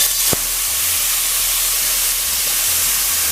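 Masala mixture hitting hot oil in a pan for a curry, a loud steady sizzle and hiss that starts with a sharp burst and holds evenly to the end, with no talking.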